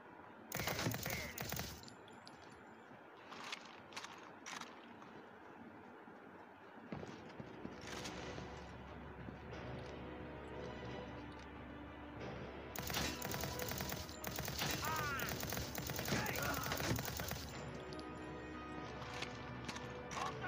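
Gunfire in the shooter game Modern Combat 3: Fallen Nation comes as bursts of automatic fire and rapid shots in two loud stretches, with quieter gaps between them.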